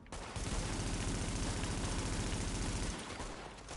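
Sustained enemy gunfire in The Division, a dense continuous burst of shots at steady loudness for about three seconds before cutting off.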